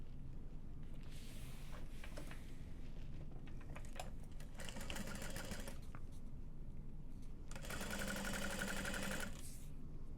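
A sewing machine stitches a half-inch seam on a tote bag panel in two bursts of fast, even mechanical whirring, close by and moderately loud, with quieter handling clicks and rustles between runs.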